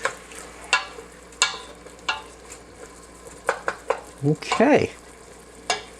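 Jambalaya sizzles in a pan as a utensil stirs and knocks against it in irregular bursts, close up, with a brief word spoken by a voice.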